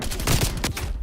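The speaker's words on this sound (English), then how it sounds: "Let's do a little shotgun action." Video game shotgun fire comes as a dense burst of loud, close blasts that blur together over about a second.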